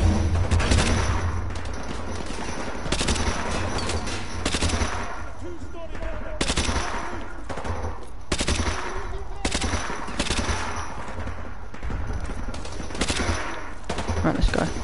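Sustained bursts of automatic gunfire and scattered single shots from the remastered Call of Duty Modern Warfare 2 campaign, loud and close, repeating in rapid clusters across the whole stretch with faint voices underneath.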